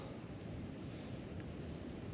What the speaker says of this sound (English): it's been blowing a gale